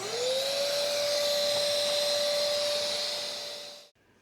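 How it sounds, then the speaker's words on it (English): An ash vacuum with a special filter for cold fireplace ash runs as a steady, loud motor whine with a sustained hum, then cuts off abruptly near the end. "So this is an ash vacuum. It's got a special filter in here for vacuuming up cold ash."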